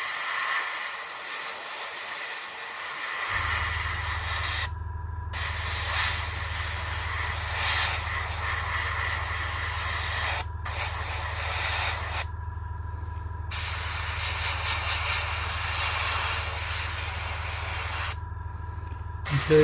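An airbrush sprays paint onto a Tamiya 1/35 Russian T-34/76 1942 model tank. A close, steady hiss is cut by several brief pauses, over a constant low compressor hum.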